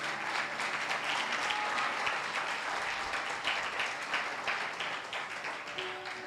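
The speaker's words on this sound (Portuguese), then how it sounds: "dar um aplauso a Jesus" Congregation at a Spanish- and Portuguese-speaking church service clapping for Jesus, a dense, steady wash of many hands lasting several seconds with no voices on top.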